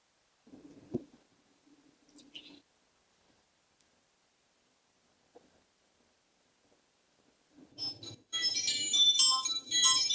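After near silence with a few faint rustles and a soft murmur, a phone ringtone suddenly starts, a loud, bright electronic melody that plays for the last couple of seconds.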